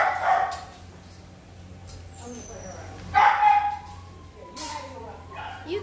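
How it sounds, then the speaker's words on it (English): Dogs behind fences at an Italian Greyhound breeding kennel bark in scattered yaps and yips, moderately near, with a louder burst midway and faint whimpering against a low background hum. "Vicious dogs behind fences making a lot of noise."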